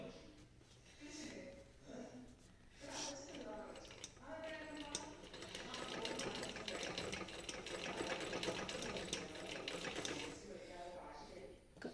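Sewing machine stitching piping onto fabric in a steady, rapid mechanical run that builds and holds through the middle, with brief pauses and a voice speaking faintly over it.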